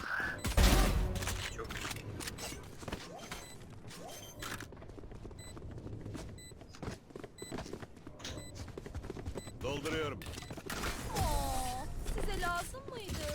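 Gunfire from the tactical shooter game Valorant, with bursts of shots and mechanical weapon sounds running throughout, layered with other game effects and dense background audio.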